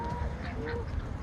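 Farm ducks quack and honk in short, fairly faint calls against outdoor background noise, with a few brief, nasal cries in quick succession.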